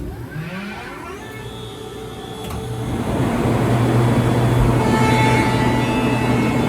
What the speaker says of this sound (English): now fire the compressor up